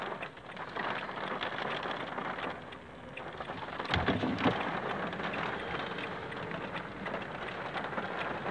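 Heavy rain pouring during a moderate thunderstorm in Livron, Drôme, a steady dense hiss of drops on surfaces with a brief louder burst midway, no voices.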